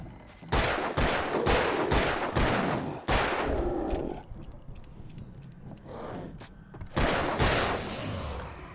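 A flare gun firing in the Alan Wake video game, set in a hedge maze, comes through as loud, sharp blasts in quick succession, then a quieter stretch and another burst, with no talking.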